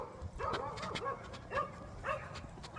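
A dog barks repeatedly outdoors on a windy day, several yips and bow-wows at an irregular rhythm, moderately close and clear above a breezy background.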